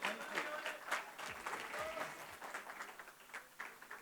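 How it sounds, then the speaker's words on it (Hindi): An audience at a film awards press conference claps loudly and continuously, a dense crowd applause sustained across the whole moment with some voices mixed in. "जोरदार तालियां हो जाएं सर के लिए।"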